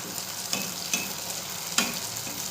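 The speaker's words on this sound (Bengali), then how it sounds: "গ্যাসের ফ্লেমটাকে মিডিয়ামে রেখে মালপোয়াগুলো আমি ভেজে নেব।" Malpua pancakes shallow-frying in oil over a medium gas flame, a steady close sizzle with a few sharp crackles and pops standing out.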